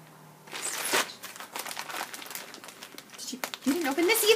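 Paper or plastic packaging crinkles and rustles as it is handled and torn open, close by, with people talking over it.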